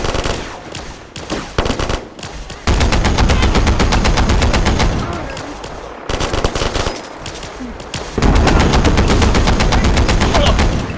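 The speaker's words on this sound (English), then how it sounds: "Since when did Brotherhood use plasma weapons?" Rapid automatic plasma weapon fire in the Fallout 4 video game, dense loud bursts of repeated shots in long strings with brief pauses between volleys and no talking.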